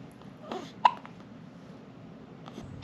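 A newborn baby boy hiccups in a quiet room, two or three short, sharp, soft hics spaced over a few seconds, close by with faint background noise.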